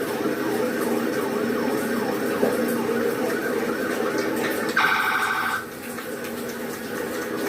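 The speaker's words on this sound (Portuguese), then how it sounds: "Já consigo escutar as sirenes por aqui." A distant wailing siren rises and falls behind steady crowd and street noise during Pelé's funeral procession in Santos, Brazil, with a brief electronic beeping tone partway through.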